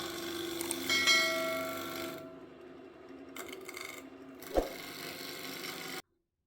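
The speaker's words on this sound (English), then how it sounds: "Thankfully, the bowl gouge does okay." A bowl gouge cutting a bowl blank on a wood lathe, with continuous scraping and humming from the spinning wood that drops out, then returns with a sharp knock before cutting off abruptly.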